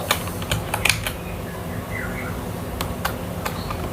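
Quick clusters of clicks from typing on a computer keyboard, a few close keystrokes in short bursts separated by pauses, with no voices.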